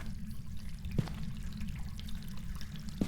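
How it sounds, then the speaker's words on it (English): A bathtub in a remodeled Phasmophobia farmhouse drips dirty water: two distinct drops land about two seconds apart over a constant low, murky room hum. "Bathtub dripping some dirty water up in here."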